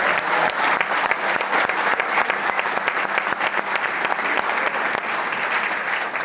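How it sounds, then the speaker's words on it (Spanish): Sustained audience applause in a studio setting, dense and even throughout, moderately loud and unbroken, with no talk over it. "Un aplauso para Jaime Belolio."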